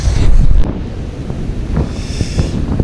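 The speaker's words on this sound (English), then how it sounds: "the wind is absolutely terrible. I haven't got a proper muffler for my GoPro when it's on my head" Strong wind buffets a head-mounted GoPro that has no muffler, loud low rumbling bursts and gusts, heaviest at the start, during early-morning pike fishing by the water.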